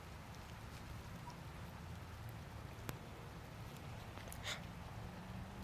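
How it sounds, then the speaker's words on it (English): Steady rain falls during a thunderstorm, a soft, even hiss of drops that runs the whole time, fairly faint, with a couple of brief clicks and no talk. "Do you see the rain?"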